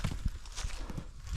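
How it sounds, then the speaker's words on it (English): Goats walking along a rocky hiking trail in Warrumbungle National Park, their hooves tapping in an irregular patter of close, distinct steps. "Goats on the trail."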